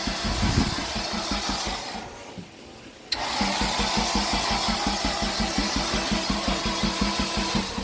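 A turbocharged K24 engine swapped into a car, cranking over repeatedly in a fast rhythmic churn, pausing briefly, then cranking again steadily and loudly at close range.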